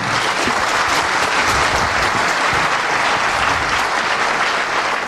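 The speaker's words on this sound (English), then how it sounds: "naomba tupige baba makofi venye nafaa" An auditorium audience at a Catholic university claps loudly and steadily for Raila Odinga at a Kenya at 60 event, a dense sustained wall of applause with no talking over it.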